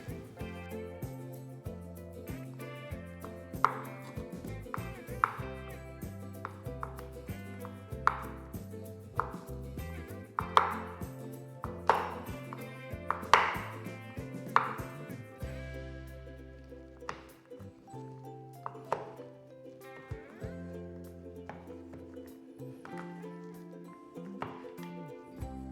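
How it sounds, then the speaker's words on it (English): A knife chops chocolate into small pieces on a board for lava cake, with steady, close, crisp strikes over a long stretch. The pace slows toward the end, leaving a few sparser cuts. "I cut the chocolate small pieces."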